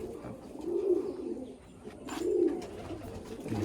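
Pigeons at a racing-pigeon loft, including pure white birds, coo softly nearby in slow, rounded phrases, two swells of cooing over a quiet background.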